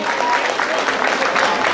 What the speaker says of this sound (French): On les applaudit très fort, merci.